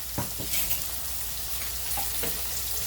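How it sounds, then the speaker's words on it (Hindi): Onions with salt sizzle in a pan, a short burst of frying hiss with a few stirring scrapes near the start, close and fairly loud. "अभी प्याज को अच्छा नरम करेंगे, नमक डालेंगे प्याज के साथ।"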